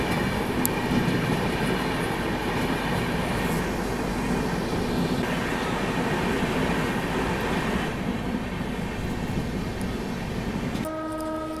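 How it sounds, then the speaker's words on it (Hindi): A passing express train runs alongside on the Mumbai–Nagpur line, a loud continuous rumble and rattle of wagons with clickety-clack, a horn sounding near the start and fading at the end, with no talk. "यहाँ पे हमारी क्रॉसिंग हो रही है अभी विदर्भ एक्सप्रेस के साथ"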